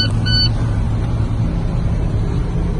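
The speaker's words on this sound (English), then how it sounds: "Now I'm going to start the truck." An automatic-transmission truck idles after starting, a steady low engine rumble heard from inside the cab, loud and continuous with a brief beeping tone at the start.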